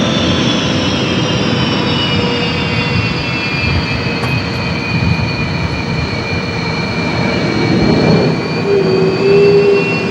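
A Sukhoi Su-30 MKI fighter jet roars loud and continuous for ten seconds, a broad engine rush with a whining high tone that slowly shifts in pitch.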